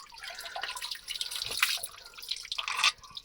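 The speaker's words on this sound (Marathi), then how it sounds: "आणि हे बघा असं इकडे प्रवाह चालू आहे" A small stream of water flows and trickles close by, with a steady splashing, dripping rush that swells briefly midway and near the end, and no voices.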